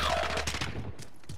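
Rapid bursts of AK rifle fire in a video game, loud and close, with a dense rattling volley at the start that thins into scattered shots and fades.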